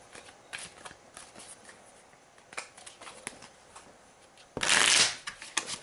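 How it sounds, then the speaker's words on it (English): A deck of cards is shuffled during a tabletop card game, with soft scattered card clicks followed by one loud, brisk riffle near the end. "I actually have to shuffle his deck"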